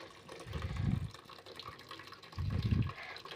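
Water from cooked greens pours and splashes through a strainer into a pot in two short bursts, close by and fairly soft, with quiet pauses in between.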